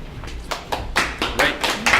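Scattered hand claps from a business-presentation audience, building from a few sparse claps into a louder, irregular patter of applause that swells toward the end, close and without talk.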